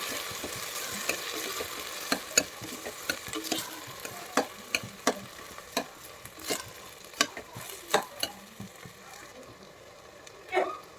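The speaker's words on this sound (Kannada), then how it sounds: "ಇದನ್ನು ಚೆನ್ನಾಗಿ ಫ್ರೈ ಮಾಡ್ಕೋಬೇಕು ಎಣ್ಣೆಯಲ್ಲಿ" Green gram and rice usli ingredients fry in oil with a soft continuous sizzle, while a utensil scrapes and clacks against the pan in irregular stirring strokes.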